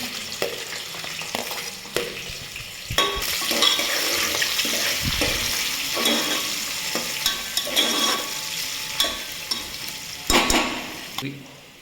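Onions and peas frying for pulao with curry leaves in a pan: continuous close sizzling with repeated stirring scrapes and clatters, loudness swelling and dipping over about twelve seconds, no speech.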